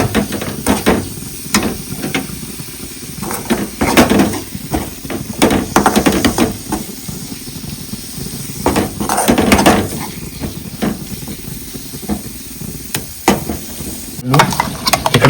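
Mutton pieces sizzle with spices in a hot pan for a village-style curry, a loud continuous sizzle broken by repeated scraping stirs and metal knocks, close up, with little or no talk.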